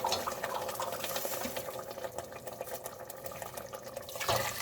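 Water measured out by the cupful pours into a pot of yüksük soup, a steady wet, splashy rush running throughout with a brief surge near the end, no voices.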